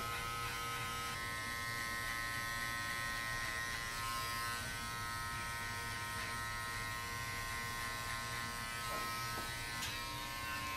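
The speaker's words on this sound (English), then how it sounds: "they've designed these clippers enough for you to just to kind of run through the hair" Electric hair clippers run steadily through hair during a skin fade haircut, a continuous close, even buzz holding through the whole stretch without talk.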